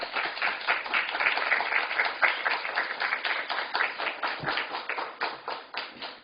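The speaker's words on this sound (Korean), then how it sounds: "나올 때 박수로 우리 환영하도록 격한 박수로." A church congregation claps enthusiastically to welcome a missionary forward, many hands producing fast, vigorous applause that pulses with rhythmic peaks and gradually eases off.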